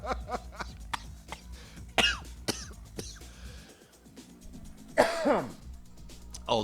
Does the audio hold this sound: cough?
yes